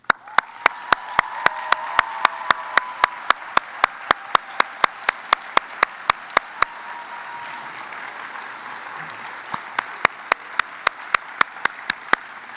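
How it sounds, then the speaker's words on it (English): A seated crowd of families applauds at a veterinary white coat ceremony, a broad dense wash of clapping that fades gradually, with a string of sharp, evenly spaced clicks running through it. "join me in a round of applause"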